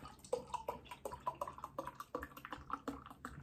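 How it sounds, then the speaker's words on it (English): Italian premium lager from Birrificio Angelo Poretti is poured aggressively into a glass, giving close, faint, irregular glugs, splashes and fizzing pops with no speech. "Get it into a glass, see if it's any good."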